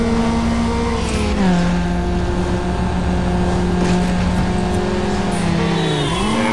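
A Honda Civic engine with VTEC revs hard in the Need for Speed Underground racing game, a loud, sustained high-pitched engine whine that climbs and holds, then drops sharply near the end.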